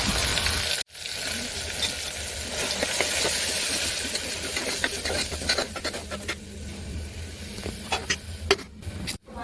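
Sliced onions and a few curry leaves frying in oil in a pan for a black-eyed pea curry, giving a steady, fairly loud broadband sizzle throughout with a brief break near the start and light clatter toward the end.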